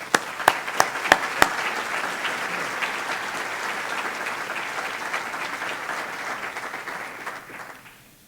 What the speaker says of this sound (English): I would also like at least a round of applause to let them know we appreciate the work that they did